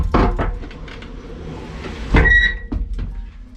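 A heavy door aboard the battleship Iowa opens with a loud close thud and a scraping clank, followed by a metallic squeal and lighter knocks in a hard-walled space.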